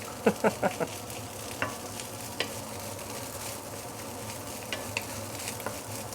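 Garlic fried rice stir-fried in a hot pan, with a quick run of scraping spatula strokes at the start, then a few scattered clinks over a low, steady sizzle.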